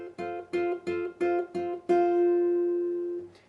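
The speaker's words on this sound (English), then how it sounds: "You'll just hold the chord with your fretting hand and then pluck the 3 notes at the same time." Guitar chord of three notes plucked together while held on the fretting hand, played at real speed in a rhythmic figure: five short clear strums in steady rhythm, then a final chord left ringing out, close and alone.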